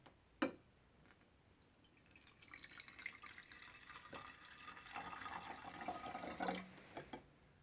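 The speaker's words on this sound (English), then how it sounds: "let's add the hydrogen peroxide" Drugstore 3% hydrogen peroxide is poured into a container, a faint, steady liquid splash and trickle of several seconds following a small clink, with no talking.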